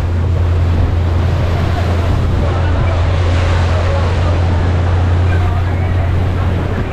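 Constant engine drone of a boat on the water mixed with rushing wind and surf noise, loud and close.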